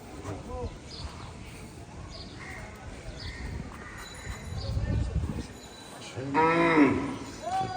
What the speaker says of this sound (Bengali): দেশি গরু খুবই সুন্দর মাসাল্লাহ